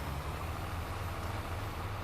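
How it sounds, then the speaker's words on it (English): A vehicle engine in Farming Simulator 22 drones at a steady low idle, a constant deep rumble with no clear rise or break. "You hear when I turn it on, I revved up."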